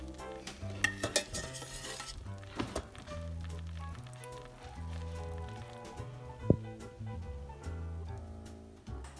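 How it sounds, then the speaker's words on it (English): Coconut mixture is ladled into rice in a pot, soft scraping and clinking of a ladle against the pot with small liquid splashes and a few louder taps, close and fairly quiet with no voices. "now we're going to ladle the coconut mixture into the rice"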